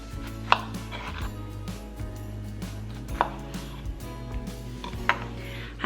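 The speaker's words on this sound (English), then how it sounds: "I'm just gonna cut off, about 1/2 to 1/4 of the strawberry." Knife chopping strawberries on a cutting board for a breakfast board, a few sharp close taps spaced about two seconds apart over a low steady hum.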